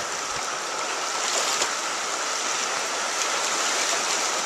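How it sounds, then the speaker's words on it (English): Class 2 whitewater rapids on the James River roar as a dense, steady rush of water, close and constant throughout with no voices. "right in the middle of the Class 2 Rapids on the James River"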